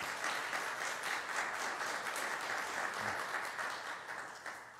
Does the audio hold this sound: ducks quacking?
no